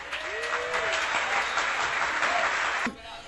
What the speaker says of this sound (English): Just by a round of applause.